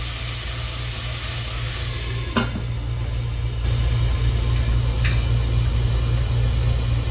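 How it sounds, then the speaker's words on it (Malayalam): Crushed ginger and garlic sauté in a pan for a Kerala-style shark curry, giving a steady, loud, even sizzling hiss over a low hum, with a brief clatter midway. "ഇഞ്ചി വെളുത്തുള്ളിയും ചതച്ചതും ചേർത്തിട്ട് കുറച്ച് നേരം നമുക്കൊന്ന് തീ ഒന്ന് നന്നായിട്ട് ചിമ്മിലിട്ടിട്ട് കുറച്ച് നേരം അടച്ചിട്ട് നന്നായിട്ട് വാടിയെടുത്ത്"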